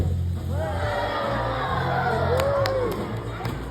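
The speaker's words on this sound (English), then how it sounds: "Let's have a round of applause for liquid nitrogen" An audience at a science show with liquid nitrogen cheers and whoops loudly in a sustained crowd roar, with a few sharper shouts near the end.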